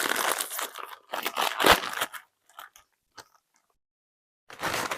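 Crunching on wavy French onion flavored potato chips, with loud crisp bites and chewing in close bursts over the first two seconds, a few faint crackles after, then another loud crunchy bite near the end.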